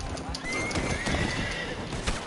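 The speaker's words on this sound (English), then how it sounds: "My horse, known as Beater, learns tackle." A horse in the video game Red Dead Redemption 2 gives a long, clear whinny over the steady clip-clop of its hooves, with a busy background mix.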